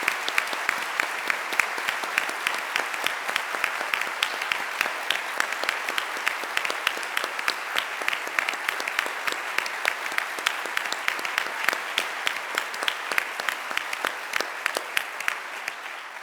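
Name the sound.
warm round of applause from the audience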